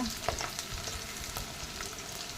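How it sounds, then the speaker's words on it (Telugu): Garlic fries in hot oil in a wok-style pan, cooking for veg spring rolls, giving a steady close sizzle with a few stirring scrapes throughout and no talking. "వెల్లుల్లిపాయ బాగా వేయించాలి అలా వేయించుకోవాలి"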